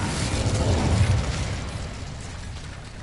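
Incendio, a fire spell in Hogwarts Legacy, bursts in a rushing, roaring whoosh of flame that swells and then slowly fades over a few seconds.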